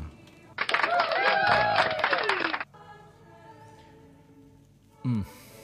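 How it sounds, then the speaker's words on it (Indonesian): Audience applause during a religious talk, a dense burst of clapping lasting about two seconds with a voice speaking over it, then a quieter stretch of talk and a brief noise near the end. "Tepuk tangan untuk kita semua"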